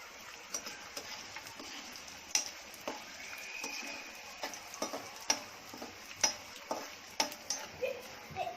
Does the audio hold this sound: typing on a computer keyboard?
no